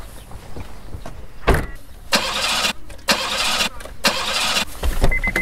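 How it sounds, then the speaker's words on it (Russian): A car's starter cranks in several bursts without the engine catching, the car having had its fuel drained, each whirring attempt separated by short pauses and heard up close with no talking. "Что-то не заводится!"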